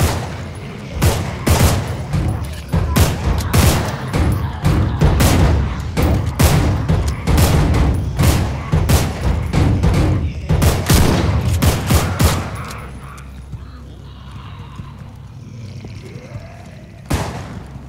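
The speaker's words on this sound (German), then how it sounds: "Oh, die Schüsse sind ganz nah." Rapid bursts of loud gunfire in the game Contagion, shots cracking in dense volleys for about twelve seconds, then quieter with one last shot near the end.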